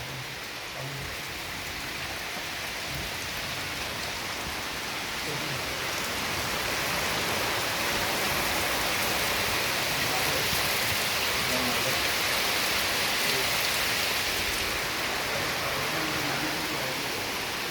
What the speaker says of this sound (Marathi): सुंदर असा बाहेर पाऊस पडत आहे